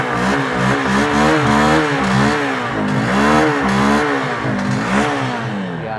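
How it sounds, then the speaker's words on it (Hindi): A Honda SP 160 or Bajaj Pulsar 150 motorcycle engine revs up and down repeatedly with the throttle blipped, its exhaust note rising and falling loudly and close by with no talk over it. "आइडियल कंडीशन पर इंजन साउंड सुनो, एग्जॉस्ट नोट सुनो।"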